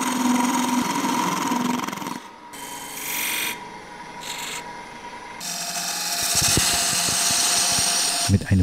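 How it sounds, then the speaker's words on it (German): A wood lathe spins while a chisel shapes a chuck tenon, making a loud continuous rasping hiss of cutting broken by brief pauses, with heavier rough scraping near the end. "Mit einem Meißel lässt sich der Spannzapfen für das Drechselfutter sehr schnell herstellen."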